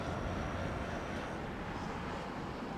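An airliner on the Hanoi flight passes at London Heathrow Airport, giving a dense, continuous engine roar that stays strong and even throughout the brief moment.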